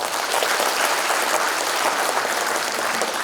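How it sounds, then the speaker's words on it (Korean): Sustained applause from an audience at a book launch event in Busan, a thick continuous wash of clapping hands that holds evenly throughout. "한 번 더 박수 부탁드립니다"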